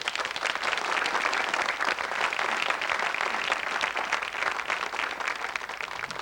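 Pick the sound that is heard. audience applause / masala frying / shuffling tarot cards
audience applause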